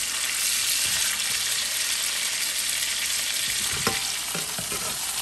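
Steaks fry in hot oil in a pan, giving a loud, continuous close-up sizzle, with a few brief clacks near the end as they are turned; nobody speaks.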